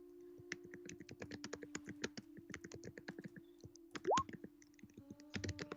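Rapid clicking keystrokes on a computer keyboard during an online game session, quiet and close, with a steady electronic hum underneath and a brief rising tone midway.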